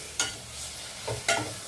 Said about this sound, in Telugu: పండు మిరగాయల పచ్చడి తాలింపు వేస్తున్నా